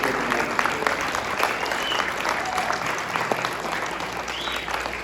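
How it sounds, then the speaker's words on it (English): At an Americana folk music gathering, a crowd applauds in a dense, continuous roar of clapping, loud and steady throughout, with a few faint voices mixed in. "Please give a big round of applause."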